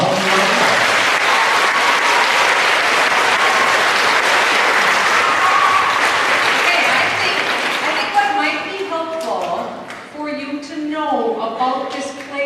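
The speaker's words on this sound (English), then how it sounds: "Everyone give her a round of applause." A theater audience at a 12:30pm stage performance of Keep the Faith applauds the production's director, loud sustained clapping that fades after about eight seconds as a voice begins speaking.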